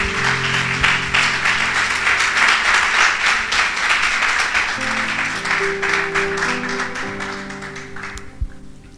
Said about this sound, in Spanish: Así que dale un aplauso al Señor.